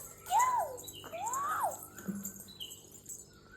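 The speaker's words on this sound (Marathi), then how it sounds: "जाई कोकिळा ओरडते. चल चल चल बघायला चल" An Asian koel calls near a house, giving two clear whistled notes that rise and fall in quick succession, fairly close, then fading into quiet ambient hiss.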